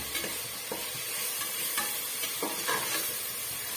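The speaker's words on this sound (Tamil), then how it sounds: "வறுத்து விடுங்க பாருங்க இடையிடையே இது போல் நம்ம மிக்ஸ் பண்ணி விட்டுட்டே இருக்கணும்" Mutton gravy masala frying in a pan, a steady close sizzle broken by repeated scraping stirs of a spoon at uneven intervals, with no talking.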